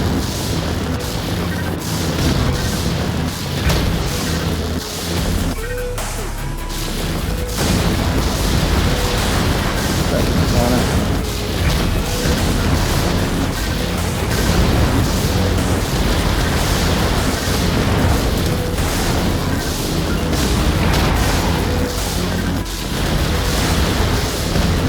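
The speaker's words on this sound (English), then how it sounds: "This cannon is turning those grinders into fireworks." In the mech combat game Vox Machinae, a cannon blasts enemy grinders apart in continuous loud booms and explosions, a dense roaring barrage of bursts and rumbling impacts filling the whole stretch.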